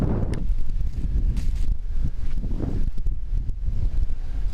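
Gusting wind rushes outdoors on a hike at Lake Shetek State Park in Minnesota, buffeting the microphone with continuous low rumbling and rustling that swells and dips throughout.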